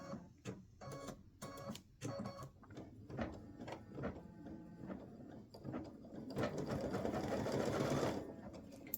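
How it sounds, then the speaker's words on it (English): An embroidery machine stitches small lines down from the points of an elf hat appliqué on a T-shirt or sweatshirt, a steady busy mechanical chatter with rhythmic needle pulses that grows denser and louder toward the end, close by with no talking. "this is going to stitch some little lines down from the points of the hat"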